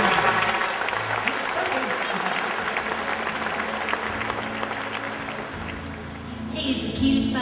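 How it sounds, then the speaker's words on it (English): Applause from an audience welcoming a country singer to the stage, a continuous broad crowd clapping sustained throughout, with some overlapping sound and music-like tones toward the end. "Give her a nice round of applause."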